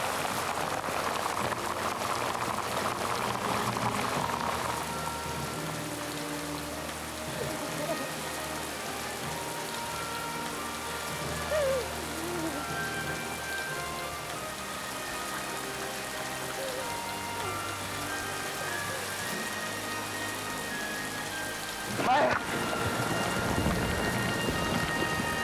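Steady heavy rain pours throughout, a dense hiss with a few louder gusts and a brief sharp surge near the end.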